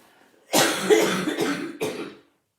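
A few harsh coughs close by: one long rough burst followed by a shorter second one, then silence.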